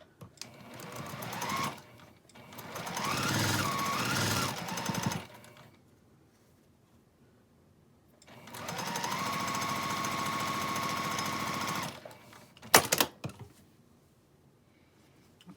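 Sewing machine stitching quilt fabric pieces for a rainbow scrap quilt, running in two steady bursts of several seconds each with a pause between, followed by a few clicks and handling noises.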